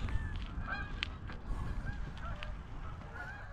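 A flock of geese honk repeatedly over an open field of corn stalks, their calls overlapping in a steady chorus that carries over a constant low rumble, with no talking.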